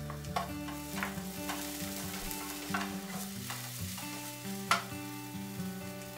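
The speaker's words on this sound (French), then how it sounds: "l'ail haché, l'échalote ciselée, les faire revenir quelques secondes. Ajoutez le piment frais." Minced garlic, chopped shallot and fresh chili sizzle in a hot pan, a steady soft frying hiss with light stirring scrapes and occasional pops, quiet and close, with no talking.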